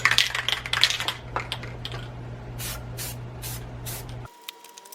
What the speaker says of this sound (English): I'm going to let it sit for a minute and then go ahead and spray it again